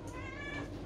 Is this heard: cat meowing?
yes